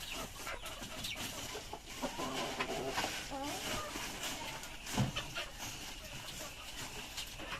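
Chickens cluck softly and steadily in a busy, noisy space, with scattered movement and faint voices mixed in.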